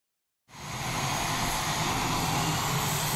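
A jet trainer aircraft begins its takeoff roll on a runway, its engine roar cutting in abruptly and then holding loud and steady without any break.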